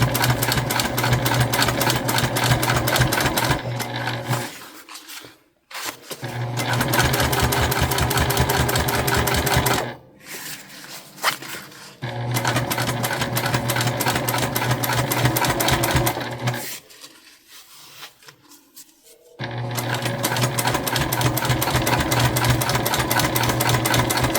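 A sewing machine top stitches a Belinda bum bag in long, fast, even runs of rapid needle clatter, close and loud, stopping briefly three times between bursts.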